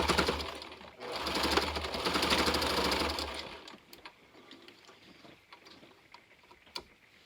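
A sewing machine runs a straight stitch on a dress accessory in one steady whirring burst of about three seconds, then stops, leaving quiet handling noises and a soft click.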